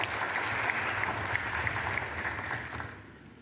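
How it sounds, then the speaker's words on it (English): Audience applause at a snooker championship match in Riyadh, a dense, even clatter of many hands at moderate distance that holds steady before tapering off, with no voices over it. "I've never seen every single shot generating applause."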